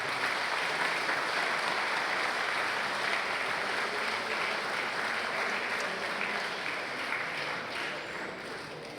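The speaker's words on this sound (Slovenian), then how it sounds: "Dajmo en velik aplavz še za nocojšnje slavljence." Sustained audience applause fills a school graduation ball for Ljubljana's secondary school of economics, a dense, steady wash of many hands clapping that holds for about nine seconds and eases slightly at the end, with no talking over it.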